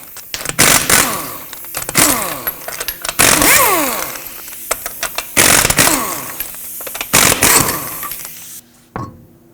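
Pneumatic impact wrench with a 21mm socket spins off lug nuts from a 2009-2015 Toyota Prius wheel, loud rattling bursts of hammering and whining repeated several times with short pauses, close and dominant.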